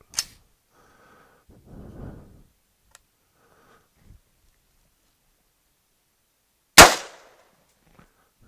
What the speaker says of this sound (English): So the gun shot, didn't blow up in my face, that's good.